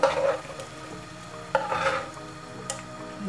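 Chicken and mushroom pieces drop into a pan of white sauce, giving soft sizzling and stirring scrapes with a few brief clinks, close and moderately quiet, with no talking.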